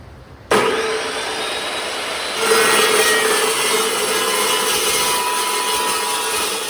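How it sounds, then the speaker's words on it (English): A Metal Devil saw with a 66-tooth blade cuts through 1/4 inch wall square tubing. There is a sudden loud start, then a steady harsh whining grind with a bright metallic ring that grows louder partway through and holds to the end. "going through those thicker sections with the 66-tooth blade"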